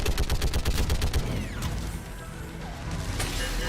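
Turret gunfire in Mass Effect 3: a rapid, loud stream of rhythmic shots hammers away, then breaks into a mechanical whine and crash before firing picks up again.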